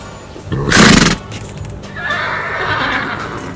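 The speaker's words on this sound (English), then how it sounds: "A horse with a temper." A horse neighs loudly and close by in a single burst of whinnying, followed by quieter tonal horse sounds and background noise, with no talking.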